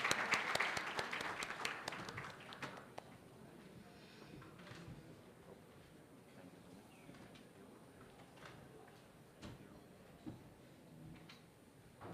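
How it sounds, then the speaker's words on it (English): Audience applause at the ONDC Startup Mahotsav, following a letter-of-intent signing on stage. A loud burst of clapping fills the first few seconds, then thins to scattered claps over a low murmuring room. "And everyone, please a round of applause."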